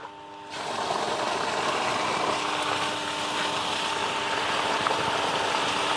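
A farm motor pump switched on by a Tq mobile starter kicks in abruptly after a brief quiet moment, then runs at a steady, loud, even hum with a rushing water-like hiss.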